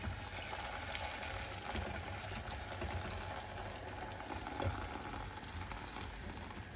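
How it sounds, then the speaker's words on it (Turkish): Water goes into a pot of lightly fried tomato paste for tarhana soup, giving a soft, steady sizzling and bubbling hiss that stays low and even for several seconds, with no voices. "Suyunu ekleyeceğim."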